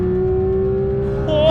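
A 2022 Porsche 911 GT3 RS with a naturally aspirated flat-six engine holds a loud, steady high engine note on the Silverstone circuit, then pitch climbs sharply as it revs at the very end.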